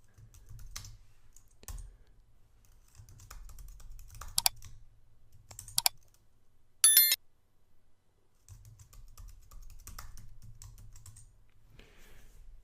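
Keys clatter on a computer keyboard as a command is typed into a Linux terminal, soft scattered clicks in short bursts with a few sharper keystrokes, close and fairly quiet.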